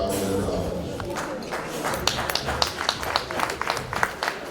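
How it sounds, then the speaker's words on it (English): At a 2019 convention gala night in Dallas, an audience breaks into applause: a busy room murmur gives way to a rising run of sharp claps that grows steadier toward the end. "Round of applause for him"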